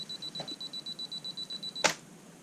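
A camera's self-timer beeps steadily for about two seconds before a single sharp shutter click fires, close and clear, while a horror-movie toy figure is photographed in a dim lighting setup.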